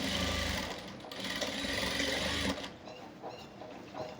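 A sewing machine stitches a pant seam in a fast, close mechanical rattle that runs for about two and a half seconds, then drops to softer, intermittent clicks.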